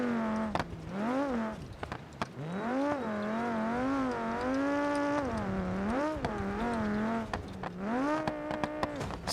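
Car driven in the BeamNG.drive video game, engine revving up and down through repeated gear changes, a continuous whining drone that rises and falls in pitch, close and steady with no talk.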